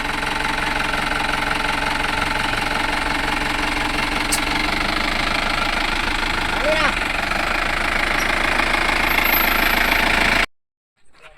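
A vehicle engine runs steadily at idle throughout, a continuous rough drone beneath loud shouting voices, then cuts off abruptly near the end.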